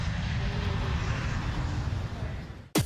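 An airplane taking off: a steady, broad roar of jet engines builds and holds, then cuts off abruptly at the end.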